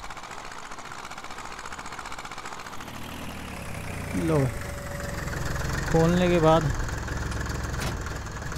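Zetor HMT 2511 mini tractor engine in Farming Simulator 18, a steady idling rumble with two louder revving bursts partway through, under someone talking.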